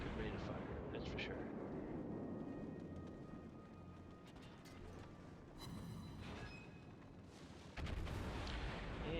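Naval shell fire from the cruiser St Louis in a warship video game, heavy booming salvos rolling out over a continuous low rumble of sea and engine noise, with a voice talking intermittently.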